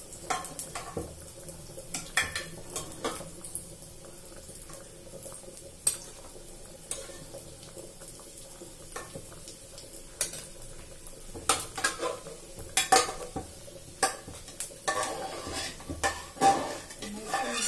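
Cooked potatoes being lifted out of a pot, a run of irregular metallic clanks and scrapes of a spoon against the pot over a faint sizzle, close and clear.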